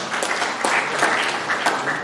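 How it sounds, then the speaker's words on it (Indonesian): Dense, steady applause from an audience at an official Bali gathering, honoring the provincial council's special truck committee, a full wash of clapping with no pauses. "Tepuk tangan untuk pansus truk."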